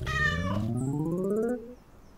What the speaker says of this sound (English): Hey, the kitty. Say hi to the kitty.